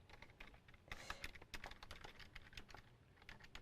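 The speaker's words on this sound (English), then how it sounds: "All my mad typing in the background." Fast typing on a computer keyboard in the background of a sewing show, a quiet, steady stream of light clicks with a few louder bursts of keystrokes.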